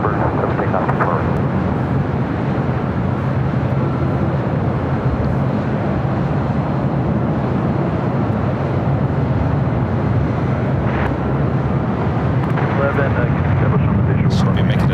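An airliner at LAX takes off from runway 24 right, a steady broad jet roar that holds for the whole stretch under faint radio chatter.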